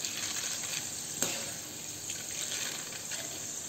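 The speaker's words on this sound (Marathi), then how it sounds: "डाळ छान तळून झालेली आहे, बघा सगळी डाळ वरती तेलात तरंगते आणि आवाज पण बघा" Chana dal deep-frying in hot oil, giving a steady, dense hiss and fine crackle that holds evenly throughout, with one brief sharper pop near the start and no voices.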